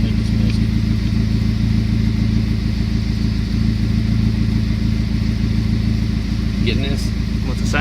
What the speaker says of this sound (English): Oh, I know it's misfiring right now.